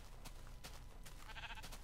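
A brown sheep in Minecraft with the IndustrialCraft mod bleats with a short, quavering game sound over a low, busy background, followed by a few faint clicks.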